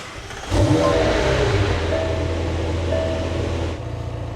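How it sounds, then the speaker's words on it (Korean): A sports car engine fires up with a sudden roar outdoors, then holds a loud, steady droning idle with slight rises in revs before dropping off. "바깥에서 시동 거는 거 한번 들어보실래요?"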